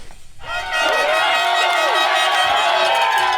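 A crowd at a Derby, Tasmania mountain bike enduro race roars and cheers loudly and steadily, with whoops and shouted voices rising above the din.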